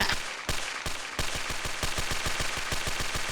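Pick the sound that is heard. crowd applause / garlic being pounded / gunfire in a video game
gunfire in a video game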